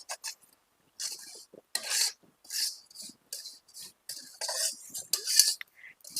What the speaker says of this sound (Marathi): शहाजीरं अशा पद्धतीनं थोड्याशा ओलसर अशा कढईमध्ये भाजून घ्यायचं असं सगळीकडनं लावून घ्यायचं